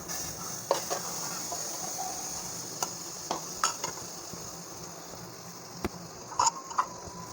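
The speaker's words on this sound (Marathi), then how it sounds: "त्यानंतर मी ह्या ठिकाणी तांदूळ परतवून घेते आहे" Rice being sautéed in ghee in a hot pan for kheer, a faint steady sizzle with soft intermittent stirring clicks and scrapes of a spoon against the pan.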